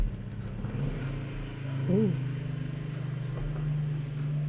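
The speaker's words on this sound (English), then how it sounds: "That's a motorcycle sound." A motorcycle passing outside, a steady low engine drone that swells slightly and stays in the background, heard under a nearby voice.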